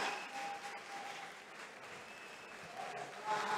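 Audience applause at a K-1 fight club event, a steady broadband patter of clapping from a crowd, moderately loud and continuous for the whole stretch with a faint tonal hum in the background.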